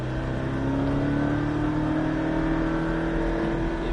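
A Porsche Cayman engine accelerates hard in third gear on a race circuit, a loud, steady rising roar with its pitch climbing smoothly throughout, close and continuous with no talk.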